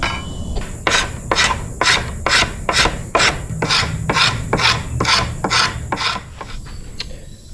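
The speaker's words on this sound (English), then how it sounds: "I'm gonna take this outer growth ring off entirely with a scraper" A hand scraper rasps repeatedly along a twisted red mulberry bow stave, taking off the outer growth ring in about a dozen steady, close strokes with no talking.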